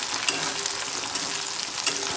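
Curry leaves hit hot oil in a pan for Vidarbha-style ukadpendi, a wheat-flour upma. The result is a loud, steady close-up sizzle and crackle with a few sharper pops, and no voices.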